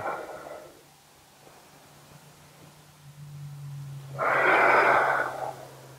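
Slow, audible breathing during a yoga core exercise, a soft exhale at the start and a strong, loud exhale near the end, with a low steady hum between breaths and no talking.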